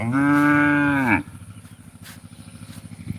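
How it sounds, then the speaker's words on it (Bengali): One long, loud mooing from a nearby cow that stops abruptly, followed by quieter rhythmic rustling and scraping. "কান্না করছে গরুটা"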